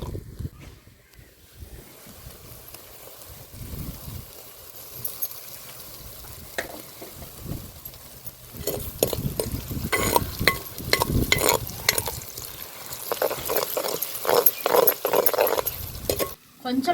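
Homemade ginger garlic paste added to hot oil with reddened onions for gongura mutton, quiet at first and then a louder crackling sizzle with stirring, and a voice speaks faintly in the background.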